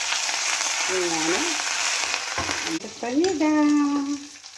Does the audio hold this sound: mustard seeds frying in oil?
yes